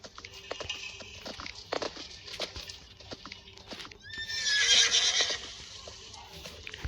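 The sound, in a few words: horse neighing and hooves in Roblox video game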